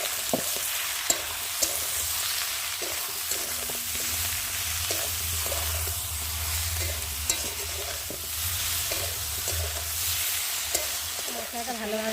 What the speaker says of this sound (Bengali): আর দেবো হলুদের গুঁড়ো, জিরে বাটা আর আদা বাটা, আর দেবো কুচানো টমেটো দিয়ে ভালো করে কষিয়ে নেব।